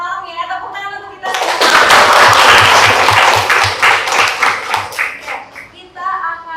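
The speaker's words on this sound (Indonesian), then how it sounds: "Tepuk tangan untuk kita." Classroom of students clapping together during an art lesson on still-life drawing, a sudden loud burst of rapid claps that swells, then thins and fades as talking voices return at the end.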